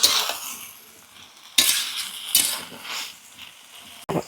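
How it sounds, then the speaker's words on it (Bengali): Vegetables with mustard paste, chilli and salt being stirred in a pan: scraping strokes and soft sizzling, with a few louder clanks of the spoon against the pan, close and without talk. "নাড়িয়ে নেই।"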